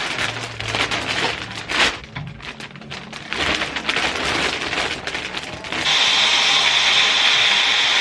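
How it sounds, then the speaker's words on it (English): Blazers and jumpers rustle as they are packed, then a vacuum cuts in and pulls the air from the storage bag with a loud, steady, hissing whine to the end. "I've never so effectively vacuum packed anything in my whole life."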